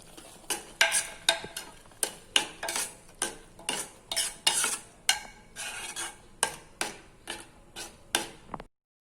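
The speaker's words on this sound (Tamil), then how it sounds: "இதில் நல்லா ஆட் பண்ணதுக்கு அப்புறமேட்டுக்கு ஒரு தடவை நல்லா கிண்டி விட்டுக்கலாம்" Sugar being stirred into cooked kavuni black rice in a pot, a spoon scraping in a steady run of about fifteen sharp, regular strokes, close and fairly loud, with no talk.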